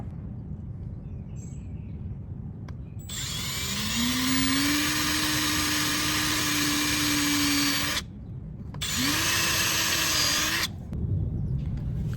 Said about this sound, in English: Then I transfer the dimensions to the chosen place outside and start drilling.